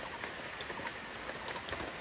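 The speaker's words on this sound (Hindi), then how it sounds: "सो बहुत बारिश आ रहा है" Heavy rain patters continuously on a roof or surfaces in a village, a dense, even hiss with scattered drop impacts, heard from indoors at moderate, fairly distant level.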